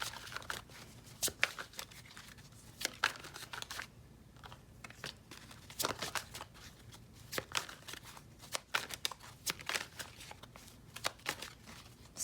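Tarot cards shuffled by hand during a pick-a-card reading, quick crisp riffles and flutters in irregular bursts with short pauses between, close and fairly quiet, no voices.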